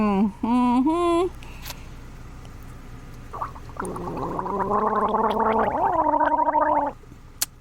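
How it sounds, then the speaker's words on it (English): Someone gargles a liquid in the throat in two bouts: a short bubbling burst near the start, then a longer, louder wavering gargle of several seconds, close to the microphone, with a little voice mixed in. "Gargle with it."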